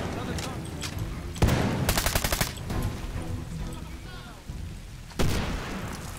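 Gunfire in the Medal of Honor Warfighter video game, with rapid automatic bursts and sharp single shots cracking over a dense battle background, while a player talks over it.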